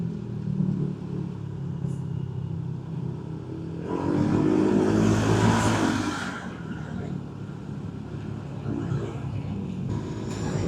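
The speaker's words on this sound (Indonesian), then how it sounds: "Truk-truk tanah." Dirt trucks hauling sand and stone pass on a night road, a heavy engine roar swelling up close over a constant road drone and then fading away.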